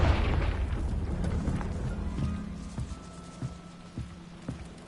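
Hogwarts Legacy's Confringo fire spell explodes with a loud low boom at the start, its roar fading over a couple of seconds, followed by a few fainter thuds and knocks from the game's environment.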